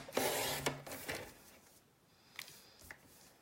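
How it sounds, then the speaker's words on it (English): A paper trimmer blade slides through cardstock in a craft session, giving a scratchy rasping stroke followed by a few lighter slides and clicks, close and fairly quiet. "I'll just get my trimmer and just take a few seconds to bring it down."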